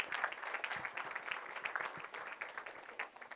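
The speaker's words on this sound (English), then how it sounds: "Everybody give her a round of applause for everything she does." Applause for Nancy McCormick at a business breakfast: a smallish group claps in uneven bursts, fairly faint and thin, lasting a few seconds.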